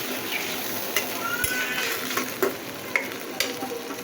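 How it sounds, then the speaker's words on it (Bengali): A hilsa fish curry with mustard gravy simmers and sizzles in a pan as more gravy is added, a steady close bubbling hiss broken by a few soft stirs and utensil taps. "ঝোলটা দিয়ে দিলাম, আর একটু ঝোল দিয়ে আমি একদম ঢাকা দিয়ে ঢাকনাটা দিয়ে দেবো।"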